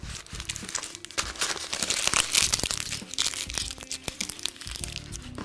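Parchment paper crinkling and crackling up close as a log of strawberry butter is rolled and its ends twisted, a busy run of crisp rustles with sharp crunches.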